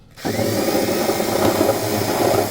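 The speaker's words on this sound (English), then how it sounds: "So I took my drill with a stone on it and" A handheld drill spins a grinding stone to smooth the step mark left by a stepped bit, a steady loud whirring grind that starts abruptly and runs continuously, close up with no talking.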